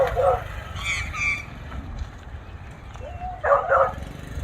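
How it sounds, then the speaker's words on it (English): A leashed dog barks at a postman, two short bursts of loud, sharp barks separated by a pause, over a steady low rumble of traffic. "there was a dog barking at the postman as well"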